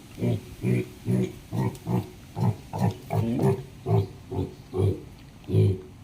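Pigs on a piggery farm grunt in a steady series of about a dozen close, rhythmic oinks, each short and evenly spaced, with no talk over them.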